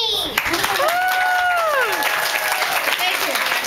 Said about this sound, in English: Please give a warm round of applause to Councilwoman Beltramini.